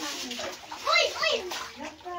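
Children play and splash in floodwater inside a house, with excited kids' voices and chatter over watery splashes that swell in two bursts.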